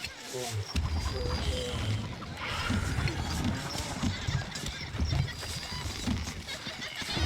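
Horses neigh and hooves clip-clop in a Stronghold Crusader Definitive Edition medieval strategy battle, a steady busy game soundscape of animals and clatter filling the whole stretch, with voices from the game over it.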